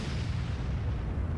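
Deep continuous low rumble of M41 HMC self-propelled artillery, a Chaffee-chassis gun, in World of Tanks; a steady heavy boom-like roar with no distinct separate shots, fairly loud and without talk.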